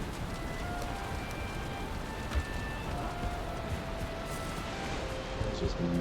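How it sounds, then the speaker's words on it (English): Steady rain hissing down in the Valheim game world, a constant broadband wash with faint musical tones drifting over it and a few soft thuds. "How dare you start to rain when I'm in the middle of the"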